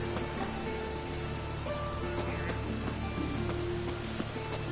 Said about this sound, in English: Rain again.